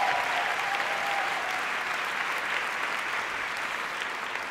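An audience at a musical theatre awards ceremony at the Folies Bergère applauds steadily, a dense, even wash of many hands that holds at full strength throughout and eases only slightly at the end.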